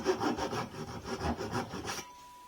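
A chisel scrapes repeatedly against the wood of a violin in a steady back-and-forth rhythm of about nine strokes, close and moderately quiet, before falling silent.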